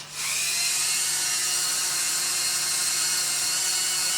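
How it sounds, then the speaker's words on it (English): A Dremel rotary tool cuts a slot into a screw, spinning up quickly and then holding a loud, steady high-pitched whine close to the microphone. "we're going to take our Dremel tool and we're going to cut down that slot"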